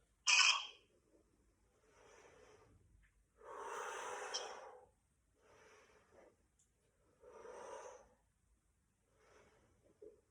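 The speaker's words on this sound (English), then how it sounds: "breathing in and breathing out now as we go up and down" Forceful breathing in and out during an abs workout: six separate breathy rushes of air spaced a second or two apart, the first a sharp snort-like burst and the rest softer, with quiet pauses between.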